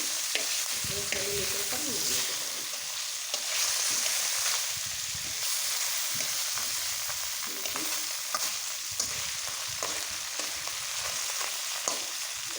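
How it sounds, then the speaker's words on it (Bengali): Taki fish fries in a pan on low heat, a soft continuous sizzle with scraping stirs and light clinks, fairly quiet and steady, with no talking. "সেই মাছগুলো ঢুকে ভেজে নেব একদম লো আছে ভাজবো মাছটা"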